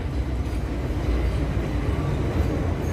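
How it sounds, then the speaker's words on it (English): A train rolls steadily past close by, its low continuous rumble and rail noise filling the whole stretch without a break and with no voices. "Except for this damn train."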